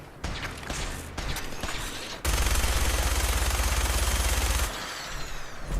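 Gunfire while fighting gunners in Fallout 4: scattered shots and clatter at first, then a sustained loud roaring burst of rapid automatic fire lasting a couple of seconds before dropping back to scattered noise.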